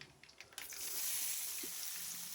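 Chopped onions hit hot oil with mustard seeds and urad dal, giving a brief patter followed by a steady, close, bright sizzle with a faint stir.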